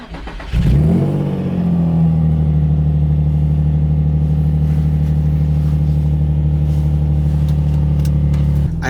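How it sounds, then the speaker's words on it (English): A Nissan 350Z with a misfire cranks and catches, then settles into a loud, steady idle with a deep, slightly uneven drone that continues close and alone. "So I'll go ahead and turn the car on now."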